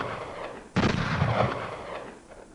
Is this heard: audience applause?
no